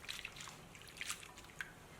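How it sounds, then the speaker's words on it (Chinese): Rinsed shredded potatoes drain in a strainer with faint, scattered water drips, a few soft separate plinks close by against near silence. "再捞出控干水分。"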